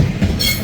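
Trains pass through Manchester Piccadilly station in a loud, close rush of rolling wheels and rail noise, with a faint high wheel squeal near the end.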